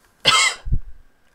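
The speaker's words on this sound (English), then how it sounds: "I still have a little bit of a cough from when I had a cold" A single sharp, close cough bursts out, followed by a softer throaty rumble as it trails off, then quiet.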